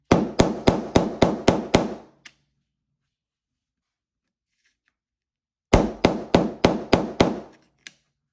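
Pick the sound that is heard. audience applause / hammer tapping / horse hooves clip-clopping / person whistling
hammer tapping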